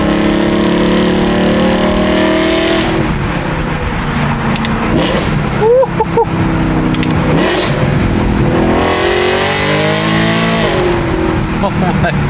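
A BMW E92 M3 with Valvetronic exhaust and Gintani tune revving hard toward 8,000 RPM, a loud sustained engine howl rising and falling in pitch through repeated sweeps.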